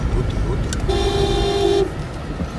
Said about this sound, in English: the sound you hear is my grandfather's phone